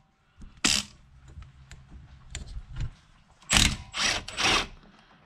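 A ratchet works on the 15 mm caliper bracket bolts of a 2014 Chevy Impala during a wheel bearing job: short bursts of close metallic clicking, the loudest near the end, with no voices.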